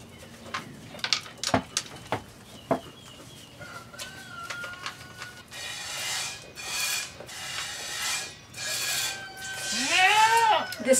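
Goats bleat at milking time on a small farm, several drawn-out calls near the end, mixed with knocks and rustling earlier and some chicken-like clucks.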